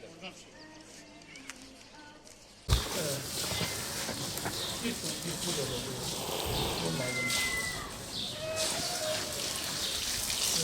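Cats meow at a city bus stop in Şanlıurfa, Turkey, with a few short mewing calls rising over loud outdoor street noise, wind or rain-like hiss and people talking nearby.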